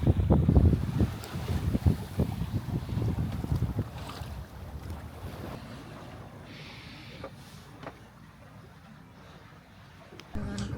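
A sailboat under sail on open water between Sweden and Åland, with steady wind rushing across the microphone and a low, washing rumble of water that is strongest at the start and eases into a softer, continuous hiss.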